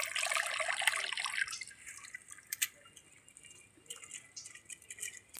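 Water splashes and pours for about a second and a half, then fades into faint scattered drips and small trickles close by.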